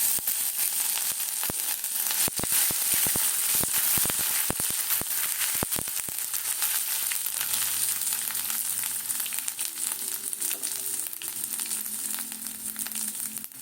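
Ginger and spices with green chili, radhuni and fennel seeds sizzle in hot oil in a home kitchen: a steady, close frying hiss with sharp spatter crackles early on, which settle into an even sizzle.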